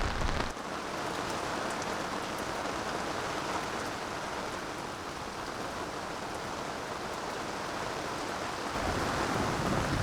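Heavy rain pours down on a boat in a steady, dense hiss, drumming on a nearby surface with a low rumbling undertone throughout.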